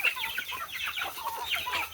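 Chickens being fed corn in the early morning cluck close by, several quick overlapping clucks and squawks in a busy, continuous run.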